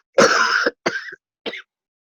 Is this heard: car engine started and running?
no